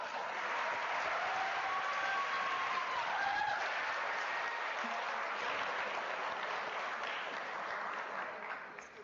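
Broad, sustained applause from a big crowd fills the hall at a University of South Africa spring graduation ceremony, with faint whoops or cheers blended in early on. The clapping stays strong for about nine seconds before easing off at the end.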